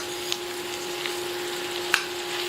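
Mushrooms frying in olive oil in a pan, a steady soft sizzle with a faint hum and a few light utensil clicks.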